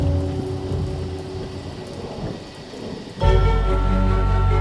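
A thunderstorm pours steady heavy rain, then a deep rumble of thunder rolls in and swells loud and close, sustaining under the downpour.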